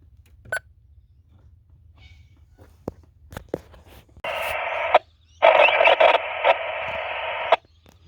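A few clicks and taps, then a loud burst of radio static hiss with a brief gap, crackling from a nearby UHF radio speaker mounted under the dash of a Ford Ranger XLT.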